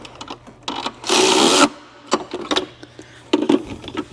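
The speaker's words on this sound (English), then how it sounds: "Get these tightened down. 13mm. Tighten to factory spec." Quick clicks and ratcheting of a wrench tightening 13mm bolts on a Volkswagen Routan engine, in short irregular bursts with one longer harsh rasp of about half a second, close and fairly loud.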